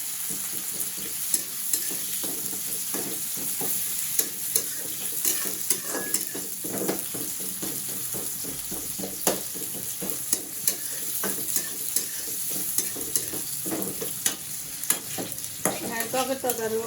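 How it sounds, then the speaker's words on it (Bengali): Chopped onions fry lightly in a pan with a constant sizzle while a spatula scrapes and stirs in a quick, regular rhythm throughout, close and moderately loud. "পেঁয়াজ কিছুটাকে হালকা করে ভেজে নেব"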